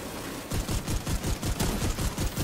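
Automatic gunfire hitting the player in a video game: a quick, rhythmic burst of thudding shots, about a dozen evenly spaced impacts, fairly close and steady, with no speech over it.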